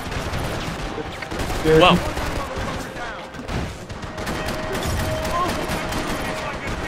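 Enemy gunfire in the video game Max Payne 3, bursts of rapid shots and fusillade crackle with booms, mid-distance, while a player's voice briefly exclaims over the action.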